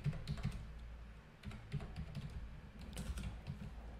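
Code being typed on a computer keyboard comes through as quiet, uneven bursts of keystrokes with short pauses between runs, close by and without talk.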